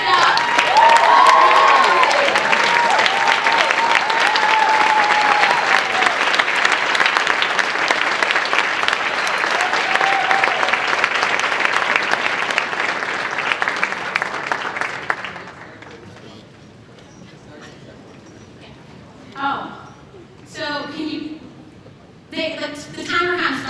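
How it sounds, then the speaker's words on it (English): Loud, sustained applause and cheering from a large crowd in an auditorium for Northside College Prep, lasting about fifteen seconds before fading into quieter room noise with some voices. "So let's give a big round of applause for Northside College Prep."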